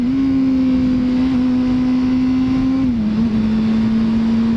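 A motorcycle engine fitted with rearsets and a gear indicator runs loud and close, a steady droning hum that dips briefly in pitch as a gear shift occurs, then settles again.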